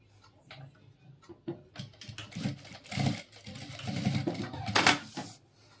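A sewing machine runs in short bursts while stitching the collar of a ladies' coat or blazer, its needle ticking in quick rhythmic runs that build louder toward the end.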